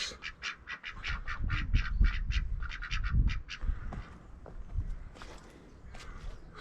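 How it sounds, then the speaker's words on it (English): Ducks quacking and squawking beside the River Coln in the Cotswolds, a rapid run of loud, close calls that fades into scattered quacks over footsteps and outdoor rustle. "Hello, ducks."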